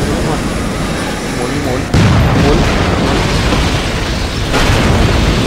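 Heavy gunfire and booming explosions from the Spec Ops: The Line video game, a dense, loud barrage with sharp blasts at about two and four and a half seconds, with someone talking briefly over it.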